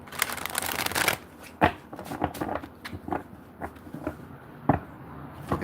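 Playing cards are shuffled repeatedly up close, with bursts of riffling flutter and sharp taps as the deck is squared between passes.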